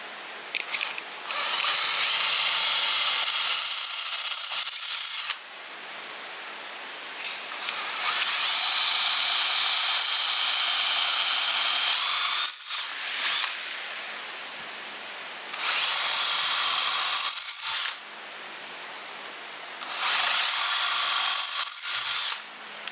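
Power drill driving a screw through a maple guitar body into the neck, with four long whirring runs of several seconds each separated by short pauses and brief clicks, close and steady, with no talk.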